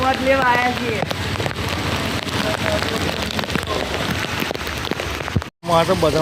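Heavy rain pours steadily in a flooded market street as a dense, loud wash of noise, with people talking over it and a brief dropout near the end.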